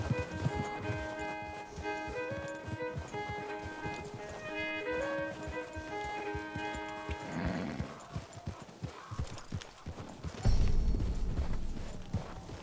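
Hooves clip-clop in a steady rhythm over sustained background music in Red Dead Redemption 2, with a horse snorting and a louder scuffing burst near the end.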